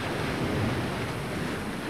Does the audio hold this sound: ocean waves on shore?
yes